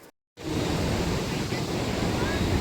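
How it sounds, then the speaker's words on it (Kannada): The Ningmala waterfall at Mahabaleshwar hill station gives a steady, dense rush of falling water, loud and close, after a brief moment of silence at the start. "ಈಗ ತಾನೇ ನಿಂಗ್ಮಾಲ ಫಾಲ್ಸಿಗೆ ಬಂದಿದ್ದೀನಿ, ತೋರಿಸ್ತೀನಿ ನಿಂಗ್ಮಾಲ ಫಾಲ್ಸ್ ಹೇಗಿದೆ ಅಂತ ನೋಡ್ಕೊಂಬನ್ನಿ"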